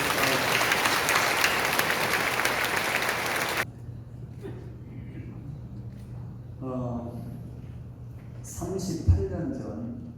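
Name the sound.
applause for a church assembly chairman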